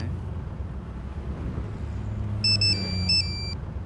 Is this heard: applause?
no